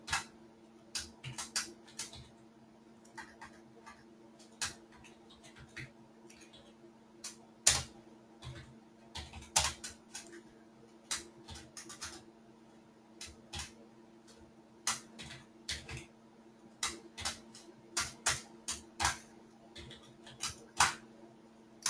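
Many people type on computer keyboards in a room, a steady patter of quick, fairly faint clicks and taps overlapping irregularly throughout, with a low electrical hum behind and no talking.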